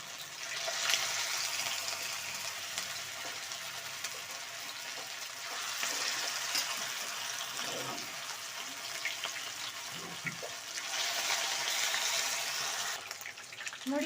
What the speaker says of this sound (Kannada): ಕಬಾಬ್ನ ಒಂದೊಂದೇ ಹಾಕ್ಕೊಂಡು ಎಣ್ಣೆಯಲ್ಲಿ ಕರಿಬೇಕು ಚೆಂದಾಗಿ.